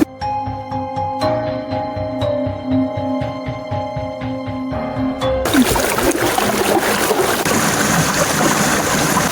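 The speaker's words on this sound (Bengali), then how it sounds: "ওই যেখান থেকে জলের স্রোতের আওয়াজ আসছে ওইদিকে যাই" Steady rushing water from a waterfall stream at Ghatshila fills the scene, first with a layered tonal hum and clicks, then a dense, loud broadband wash of flowing stream close by.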